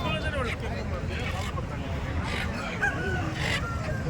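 Chickens, native country and Giriraj breeds, cluck and a rooster crows amid a busy, noisy poultry market in Chandapur, with people talking in the background throughout.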